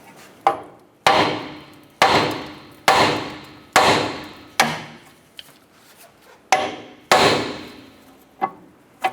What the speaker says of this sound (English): Let's go ahead and use a hammer. We're going to strike our knuckle here and pop that outer tie rod off.